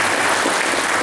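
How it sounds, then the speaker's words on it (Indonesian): Steady, dense applause from an audience at a children's dialogue event with a regional leader, a brief continuous burst of many hands clapping at full volume. "Tepuk tangan pemirsa."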